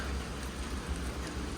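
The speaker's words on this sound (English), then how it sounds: "It has been raining all morning." Steady rain falls on a wilderness trail in Maine's 100 Mile Wilderness after a morning of rain. A continuous, moderately quiet wash of drops sounds close by.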